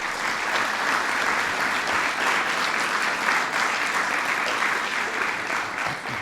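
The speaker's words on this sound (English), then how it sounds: "Please give them a big round of applause." Sustained audience applause at a National Mentoring Month celebration, a dense, even wash of many hands clapping that holds steady and fairly loud throughout, with no talk over it.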